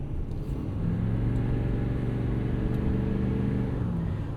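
A 2016 Ford F-350 Lariat Super Duty with the 6.7 Powerstroke diesel, apparently tuned, revs with a steady, loud, deep rumble that swells and holds across the whole stretch, close and alone with no talk.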